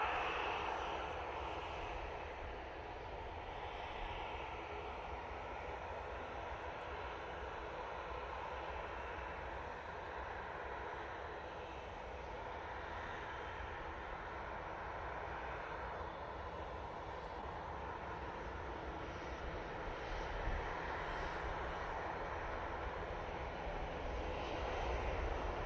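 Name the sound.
Kuwait Airways Airbus A330-900 landing at Manchester Airport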